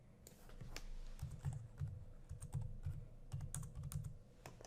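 Soft typing on a computer keyboard, a quiet run of clustered key clicks in an uneven rhythm, close and alone.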